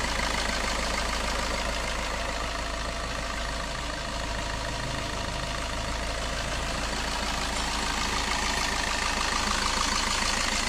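A Suzuki Ertiga common rail diesel engine idles in a workshop, a continuous low rumbling drone heard up close with no voices over it.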